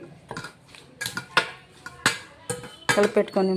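Salted ingredients are mixed by hand in a kitchen bowl, with a spoon clinking and scraping against the sides in irregular bursts that grow busier toward the end.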